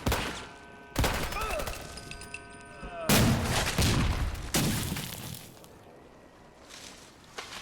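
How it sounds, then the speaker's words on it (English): Several loud, sharp grenade explosions and bursts of gunfire in the Fallout 4 video game crack out in sudden blasts, each with a ringing, debris-like tail, while someone talks over the battle. "Oh god, that's a proper grenade."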